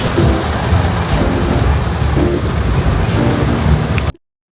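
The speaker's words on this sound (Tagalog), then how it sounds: "It's been raining in Quezon City." Rain falls steadily in Quezon City as a dense, loud hiss of drops on surfaces, continuous for about four seconds before cutting off abruptly.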